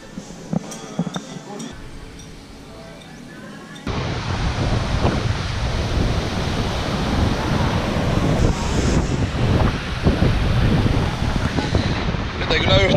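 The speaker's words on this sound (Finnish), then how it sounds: "täällä tuulee niin voimakkaasti tässä rannassa, niin saattaa vähän humista mikrofoneissa" Strong wind on a beach roars and buffets the microphones, a steady dense rumble that jumps up sharply after a quieter opening with faint clinks, and continues loud to the end.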